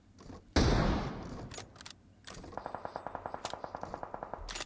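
Mobile battle-royale game gunfire from PUBG Mobile: a loud burst opens, then a rapid, evenly spaced automatic volley rattles on for over two seconds, with faint thuds between.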